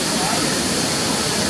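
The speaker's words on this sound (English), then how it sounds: "Look at that beautiful river water." Natural river waterfalls rush in a steady, loud broadband roar, filling the whole clip without a break.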